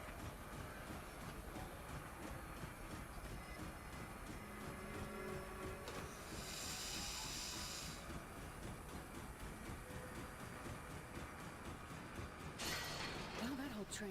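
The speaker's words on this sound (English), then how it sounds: "Well, that whole train ride was unexpected." A video game train ride rumbles steadily for the whole stretch, a continuous rolling rail noise with a brief brighter hiss midway and a sharper burst near the end.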